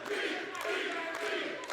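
Wrestling crowd at an IMPACT event in the greater Orlando, Florida area, a steady, dense roar of cheering and shouting that fills the whole moment without letup.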